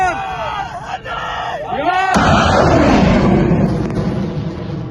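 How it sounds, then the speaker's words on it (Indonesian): Weapons fire and missile strikes boom through a chaotic battlefield scene in the India-Pakistan conflict, a loud sustained rumble and blast swelling after an initial stretch of wailing voices and shouting. "Di tengah dentuman senjata,"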